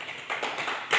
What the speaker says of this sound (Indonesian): Tepuk tangan untuk Novia